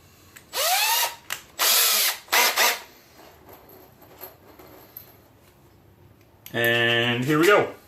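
A power drill fitted with a driver bit drives an anchor into a wall in two loud whirring bursts with rising pitch. A shorter third burst follows, then a loud final run winds down as the anchor tightens.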